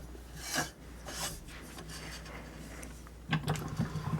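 A barrel nut is tightened by hand on an AAC .300 Blackout rifle with a stainless steel heavy barrel, giving repeated close, rasping metal-on-metal scrapes and ratcheting rubs in short bursts.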